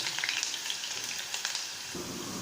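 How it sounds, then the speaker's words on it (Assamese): Potato pieces frying in hot oil in a home kitchen, a soft, steady crackle and sizzle with light popping, fairly quiet throughout with no voices. "ধুনীয়াকৈ আলুকেইডোখৰ ফ্ৰাই কৰি ল'ব।"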